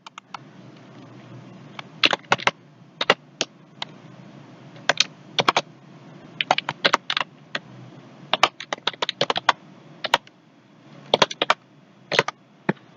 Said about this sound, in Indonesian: ini kita ketik di sini